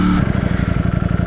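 A 2020 Ducati Streetfighter V4 super naked motorcycle engine pulses in a quick, rhythmic, close-up burst, brief and unaccompanied by voices.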